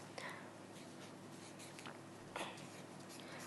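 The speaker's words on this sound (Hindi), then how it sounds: "जिसे भी आपको अपने वश में करना है उसका नाम आपको इस कागज पर लिखना है" A pen writes on a sheet of paper, soft scratchy strokes in a few brief bursts over a steady background hiss, close and faint.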